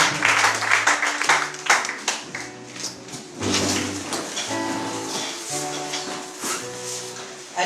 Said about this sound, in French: On va acclamer la parole très très fort.